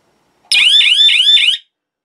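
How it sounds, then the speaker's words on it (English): A 12V alarm wired to a Halloween prop sounds loud and close, a harsh electronic siren of four rapid warbling chirps in about one second, then silence. "the alarm triggers"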